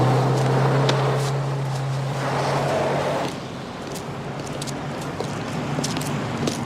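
A car engine roars and pulls away fast, loud at first and then dropping off, with rushing wind noise and scattered clicks afterward.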